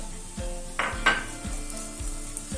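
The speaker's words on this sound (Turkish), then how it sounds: "Bunları kavurma işlemi yapalım" Onions sizzle and fry steadily in a pan, with a few scraping stirs and soft clinks of a utensil against the pan.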